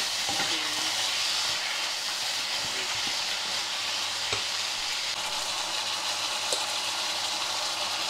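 Food sizzles in a hot pan while it is stirred until it changes colour, a steady hiss of frying with occasional faint scraping clicks.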